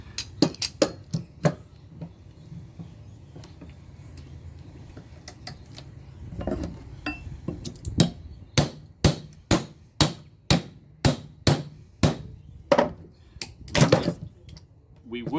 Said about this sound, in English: So now we're going to chisel in this little gap here